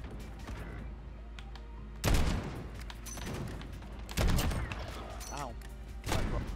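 Gunfire in the Modern Warfare 2 video game: several sharp, loud bursts of shots arrive at intervals of about two seconds, with quieter game sounds filling the gaps between them.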